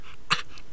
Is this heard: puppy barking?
yes